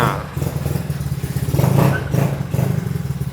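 Motorcycle with a loud aftermarket exhaust, a 2015 Yamaha Mio, revving up and down in short bursts close by, its throaty mid-range burble swelling and dropping over a few seconds with some clattering.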